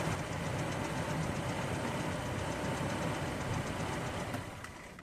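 A Toyota Tamaraw FX engine with a clogged carburetor idles continuously with a steady rumble at an even level, fading slightly at the very end, with no voices.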